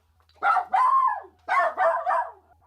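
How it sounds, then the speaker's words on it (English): Several dogs bark in the background in short, loud bursts, about five barks with brief gaps between them, with no talking. "Apologies for the dogs barking in the background."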